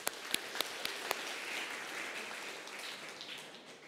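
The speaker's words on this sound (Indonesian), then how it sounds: "kita beri tepuk tangan sekali lagi" Congregation applauding at a Sunday church service, starting with a few sharp separate claps that swell into a soft, even patter of many hands and then fade.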